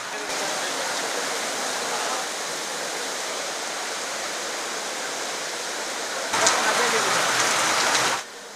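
Heavy rain pours at the Sabarimala Sannidhanam temple grounds, a dense, steady hiss that holds for several seconds, then swells briefly louder before easing back near the end.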